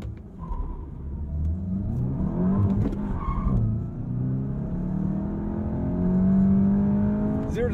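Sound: 2023 VW Golf GTI S manual accelerating 0-60 run

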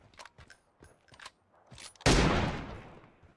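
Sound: gunfire in PUBG Mobile video game

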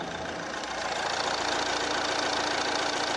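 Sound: SUV engine idling

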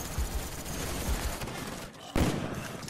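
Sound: gunfire from the video game Call of Duty Black Ops

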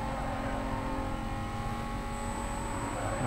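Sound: car engine racing in video game Need for Speed Most Wanted

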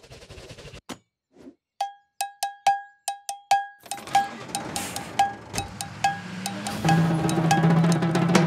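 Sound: cowbell

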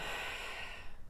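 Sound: deep breath during guided meditation

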